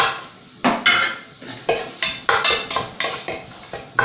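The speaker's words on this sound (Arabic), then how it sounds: "نحطو البصلة ديالنا، هيا البصلة ديالنا كتوجد" Onion dropped into a pot for chicken mhammer and stirred, with repeated clanking of a utensil against the pot at an uneven rhythm and a faint sizzle underneath, close and fairly loud.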